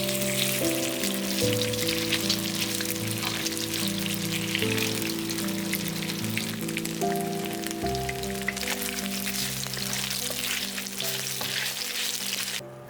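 Seared meat frying in oil in a hot pan for pad see ew gives off a strong, continuous sizzle and spatter, close and steady, with light music underneath.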